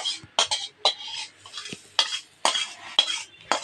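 Hot fried tempering is poured from a very hot pan into a dish of idli, giving a series of short scraping, clinking and sizzling bursts of metal against cookware, close and fairly quiet, with no talk.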